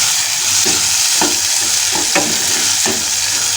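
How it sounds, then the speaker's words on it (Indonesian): Sambal pacul with sliced spring onions sizzles steadily in a frying pan while a utensil stirs it, with several scraping strokes cutting through the continuous frying hiss. "Kita aduk-aduk."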